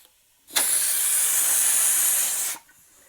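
Air compressor inflating a pickup truck tire after the bead seated, a loud steady hiss of rushing air lasting about two seconds with abrupt start and stop, no talk.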